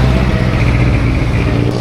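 Suzuki GSX 150 motorcycle with stock ECU and stock exhaust, a close, loud, continuous engine drone held steady across a short stretch.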